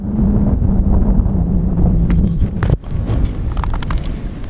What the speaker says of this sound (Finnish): että on kylmä tuuli